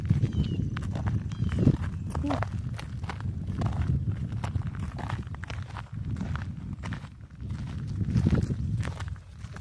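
Horses walk nearby outdoors, their hooves clopping in an uneven steady rhythm close to the microphone, with people talking over the sound.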